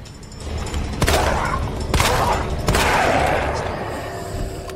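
Gunfire in the video game Resident Evil 2, three loud sharp shots spaced about a second apart over a steady game background, with no talking.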